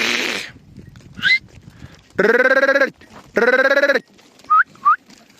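Sheep being herded to water on a farm: several loud, wavering bleats, two long calls in the middle and shorter ones around them, with a brief noisy burst at the start and quiet pauses between.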